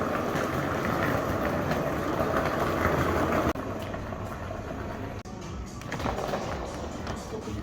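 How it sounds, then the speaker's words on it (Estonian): A train passes close by with a steady, loud rolling rumble and rattle that holds for the whole stretch, with no one speaking. "Rong paistab juba."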